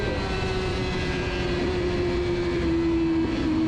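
Honda CBR1000RR-R Fireblade HRC superstock motorcycle at full throttle on a race track, a loud, steady engine drone with a sustained high tone that holds throughout, close and continuous with no talking.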